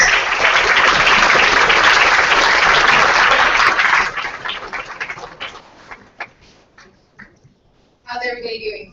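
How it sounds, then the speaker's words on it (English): Audience applause for a panel at a Latino coder summit, dense steady clapping for about four seconds that thins out and fades, followed by a brief burst of speech near the end. "One more round of applause and great."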